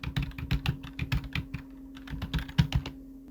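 Rapid, uneven keystrokes tapping on a computer keyboard while entering text in Photoshop, close and fairly quiet over a steady electrical hum.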